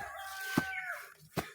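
A hen kept loose around a backyard gives a couple of sharp clucking calls, with faint background noise between the short bursts.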